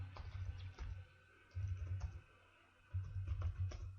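Typing on a computer keyboard at a desk, short bursts of quick soft key clicks separated by brief pauses, quiet and close.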